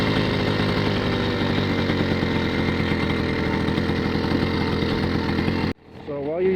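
Small engine on a motorized bicycle runs loud and close with a steady buzzing drone for several seconds, then cuts off abruptly near the end, leaving faint background sound.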